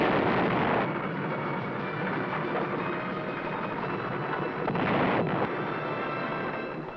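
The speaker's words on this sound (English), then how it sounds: "The other batteries let loose with their deadly accurate fireworks." U.S. Army missile and artillery batteries fire at a distant simulated target, filling the air with a sustained, heavy roar and rumble, with louder surges at the start and near the end.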